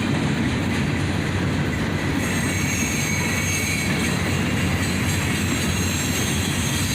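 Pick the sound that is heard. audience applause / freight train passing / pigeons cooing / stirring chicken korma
freight train passing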